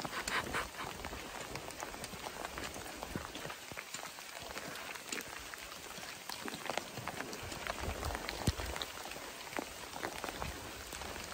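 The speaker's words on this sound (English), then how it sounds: "First rain on the Colorado Trail" Steady rain patters densely on surfaces nearby on the Colorado Trail near Durango, a constant hiss with scattered sharper drops throughout, no voices.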